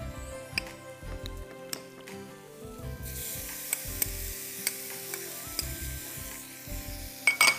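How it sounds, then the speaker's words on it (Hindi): Spinach and paneer being stirred together in a pan, soft scraping and gentle sizzling with intermittent light clicks of the spoon against the pan, quiet and close. "अब इसमें मैं पनीर भी इसी स्टेज पे डाल देना चाह रही हूँ कि इसमें साथ साथ मिक्सअप हो जाए"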